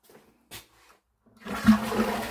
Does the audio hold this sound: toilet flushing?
yes